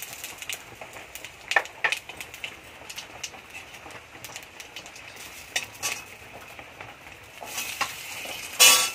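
Panch phoron and a bay leaf sizzle in hot oil, a soft crackling fry with scattered spoon and pan clinks, ending in a louder burst of sizzle.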